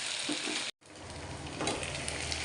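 Potatoes with garlic cook in a covered pan over a low flame, giving a steady, dense sizzle that drops out for a split second before resuming, with no voices.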